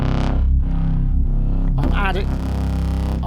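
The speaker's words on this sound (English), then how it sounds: "I'm also bringing up the reverb and the delay depth" A Dreadbox Artemis six-voice analog polysynth plays a dense, distorted sustained chord drenched in reverb and delay, loud and close, with a brighter swirling modulated phrase partway through, alone without talk.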